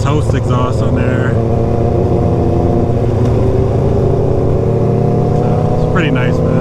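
Honda CBR600RR sport bikes with aftermarket exhausts run loud and close, a sustained high-revving engine drone with harmonic whine, while someone talks over it.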